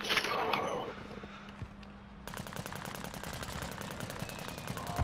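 Rapid automatic gunfire in Call of Duty: Modern Warfare II, fast regular bursts of sharp shots after a brief lull with scattered single cracks, while players talk over it.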